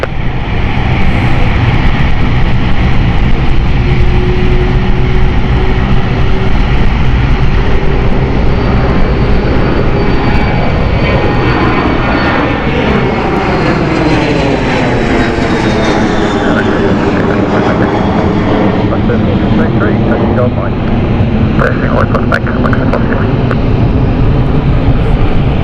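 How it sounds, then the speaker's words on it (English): Cessna 680 business jet moving at London City Airport, a loud, close, sustained engine roar with a whine that sweeps in pitch as the aircraft passes, constant throughout. "This is a Cessna 680 moving."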